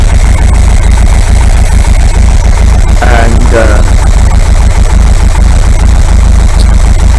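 A VW 2-litre air-cooled engine idles steadily after a tune-up, a continuous low throbbing hum close by, with a brief voice speaking partway through.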